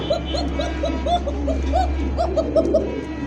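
A young pigeon at a bird sale coos in a quick run of short, rising-and-falling calls close by, with a low steady hum underneath.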